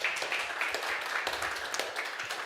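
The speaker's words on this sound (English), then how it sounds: "Round of applause for Joel." An audience at a conference talk applauds, a brief patter of clapping that is fairly thin and moderately quiet, with individual claps audible in the mix.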